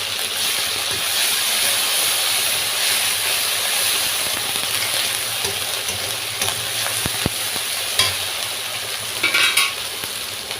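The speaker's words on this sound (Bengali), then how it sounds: "সুন্দর করে একটু কষিয়ে নেব। এর ভেতরে কেটে রাখা টমেটো দিয়ে দেবো।" Spice paste and chopped tomato sizzle in hot oil in a pan for a Bengali koi fish curry, a continuous bright frying hiss with occasional scraping stirs and small clinks of the utensil.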